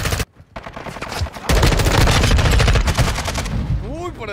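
Rapid gunfire from the video game Call of Duty Modern Warfare 2, loud bursts and sustained automatic fire with a short pause early on, under excited shouting from players.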